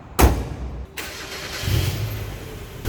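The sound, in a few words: 1996 Mazda Miata manual car engine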